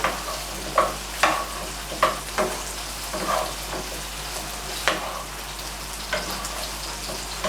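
Vegetables fry in a pan while being stirred, a soft steady sizzle broken by scattered scraping clinks of the utensil against the pan.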